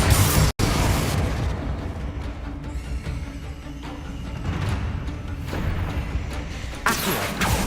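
Fiery Confringo spell blasts in Hogwarts Legacy, a loud booming explosion followed by rumbling bursts and crackling debris, with another sharp blast near the end.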